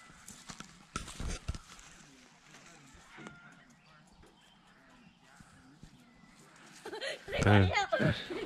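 Horse hooves clop on the ground amid scattered voices while riding horses in Nampa, Idaho, with a louder burst of nearby activity toward the end.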